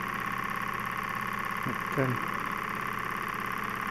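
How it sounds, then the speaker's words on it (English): A vertical Stirling engine, a design first devised by a Scottish doctor in the 1800s, runs with a steady, even mechanical hum close by, while someone speaks briefly over it. "this engine was invented in the 1800s by a doctor up in Scotland, Dr. Stirling"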